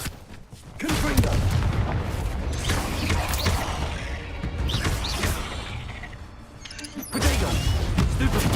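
Spell explosions from Hogwarts Legacy video game boom and crash in loud, repeated blasts over busy combat noise, with voices calling out at times.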